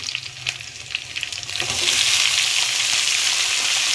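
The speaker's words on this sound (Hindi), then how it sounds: "देखिए तो इसमें मूली डाल रही हूँ मैं" Radish goes into a pan of hot oil with whole red chillies. A soft stirring scrape gives way to a loud, steady frying hiss that holds close and continuous.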